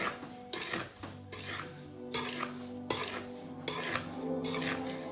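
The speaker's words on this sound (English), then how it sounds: "I'm gonna mix it up a little bit with a slotted spoon" Slotted spoon scraping and clinking in a bowl while dry ingredients for Irish soda bread are mixed, coming in repeated short bursts about once a second, close and moderately loud, over a faint steady tonal background.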